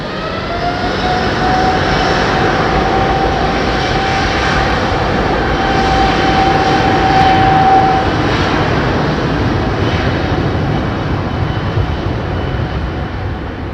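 Jet airliner taking off from runway 27R at London Heathrow, a loud, sustained engine roar with a rising whine that stays strong throughout and slowly fades near the end.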